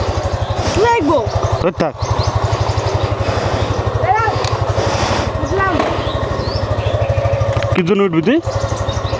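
A motorcycle idles close by with a steady, low, rapid throb before a morning ride, while people talk briefly over the engine.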